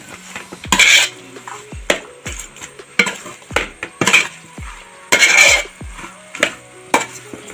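Masala stirred through Kuttanad duck curry in a pan, with repeated sharp scrapes and knocks of a spoon against the pan in an uneven rhythm, close and clear over a faint background.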